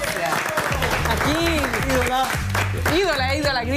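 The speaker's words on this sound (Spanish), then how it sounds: "Vamos a darle un tremendo aplauso a Katy Colesco." Studio audience applauding a special guest on a live Spanish-language variety show, steady clapping throughout while a host speaks over it.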